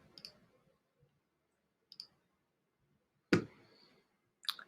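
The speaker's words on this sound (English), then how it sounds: "I'm trying to click on it." Computer mouse clicks, four sharp isolated taps spaced irregularly across a quiet background, one louder than the rest, with no speech.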